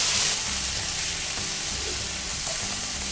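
Chopped onions, carrots and leek sizzling in a pan, a dense close hiss of frying with faint scrapes of stirring throughout, no voices.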